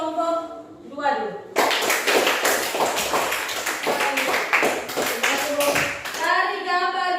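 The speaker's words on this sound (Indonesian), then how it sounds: "Sekarang tepuk tangan untuk kelompok 2 dulu." A classroom of children clapping for a group of students after a math lesson, a dense burst of many hands lasting several seconds, with a voice talking before and after.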